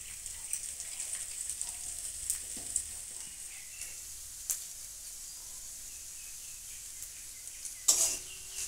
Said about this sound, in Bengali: মশলাটা ভেজে নেব।